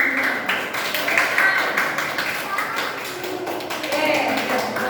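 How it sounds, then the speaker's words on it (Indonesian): A classroom of students claps together, a crowded patter of hand claps with voices talking over it, steady and fairly loud throughout. "Oke, tepuk tangan semuanya."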